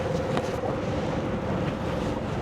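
Strong sea wind buffets the microphone aboard a boat off Leyte in the Philippines, a loud, continuous broadband rush with a faint steady tone underneath and no voices.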